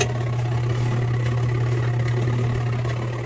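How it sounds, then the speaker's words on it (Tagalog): A washing machine motor hums steadily with a low, constant drone and faint rattling vibration, powered but not spinning the drum, close up with no talking. "umuugong yung motor pero hindi siya umiikot"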